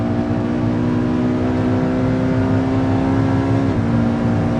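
A hybrid sports car in sport hybrid mode on a hot lap, with a steady loud engine drone and rising whine that climbs continuously, then dips briefly as if shifting, all without talk.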